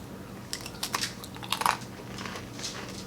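Crisp crunching bites into a thin, flaky homemade sourdough-discard cracker topped with everything bagel seasoning, a few sharp close-up cracks followed by softer chewing.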